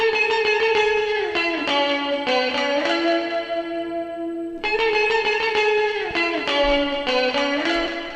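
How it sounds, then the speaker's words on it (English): Layered ambient guitar octaves stacked in the center instead of spread left and right, swelling through chorus, echo and distortion effects; sustained chords ring continuously with re-struck notes, a short dip near the middle, then the full stack returns. "if you stack them on top of each other, it sounds like this"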